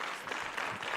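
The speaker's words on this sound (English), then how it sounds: "Let's give him a round of applause." Audience at a leadership summit applauding a speaker, a brief burst of steady clapping heard from a distance in a hall.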